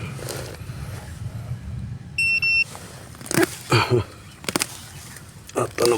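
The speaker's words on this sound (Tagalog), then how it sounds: "Tunog ang ating alarm ng cellphone." A cellphone alarm gives a brief burst of high, electronic beeping tones in the middle, surrounded by people talking and scattered handling noises outdoors.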